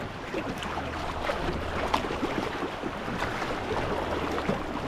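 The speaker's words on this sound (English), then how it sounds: "Be careful of the waves." Sea waves wash and churn around a folding TUCKTEC kayak near a sea cave off Crescent Island, a steady, fairly loud broadband rush with no voices.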